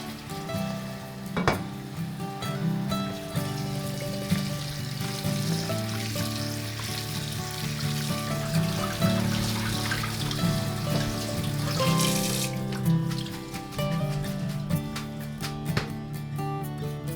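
Cooked ramen noodles are strained and rinsed under a cold kitchen tap, giving a steady running-water splash with clattering strainer and pot knocks, close and moderately loud, with no talking.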